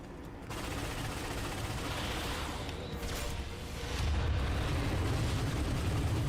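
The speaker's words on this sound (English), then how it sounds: "Cannons ready! Fire!" Cannons fire in a space battle video game, a sustained rumbling barrage of blasts that swells louder partway through, with no voices.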